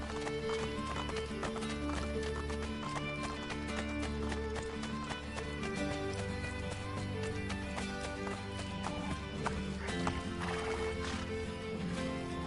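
Horse hooves galloping and a horse neighing in the video game Assassin's Creed Brotherhood, a steady clip-clop rhythm heard over a continuous music score, with no talk.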